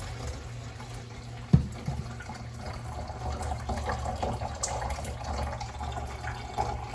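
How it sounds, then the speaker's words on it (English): Water is poured slowly into a storm container with holes sitting in a sink, giving a soft steady trickle and splash with a sharp knock near the start and faint dripping throughout. "what we're going to do is we're just going to pour this water pretty slowly"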